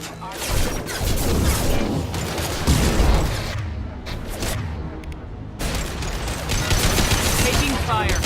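Dense bursts of automatic gunfire and explosions from a Mass Effect 2 firefight, loud and near, with rapid volleys broken by a short lull, under game music and snatches of character dialogue.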